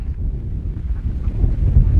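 Strong outdoor wind buffets the microphone at a pigeon-flying spot in Cirebon, a loud, continuous low rumble that swells and gusts throughout.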